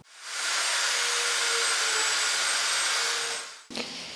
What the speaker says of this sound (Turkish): di destê wan da matkap heye, aliyekê kundirên xemlandinê çêdikin